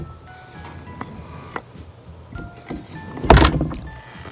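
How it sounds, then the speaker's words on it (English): A garden shed door is pulled shut, with faint scrapes and creaks building to a single louder bang near the end, heard close in quiet outdoor surroundings. "I better shut the shed door."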